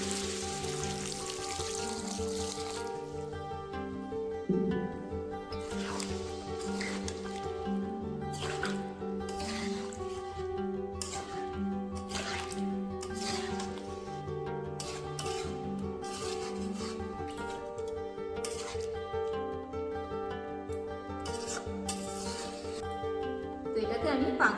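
Water is poured into a pan of new potatoes cooking for Bengali aloo dum, giving soft dripping and splashing over a steady backdrop of music, with occasional faint voice.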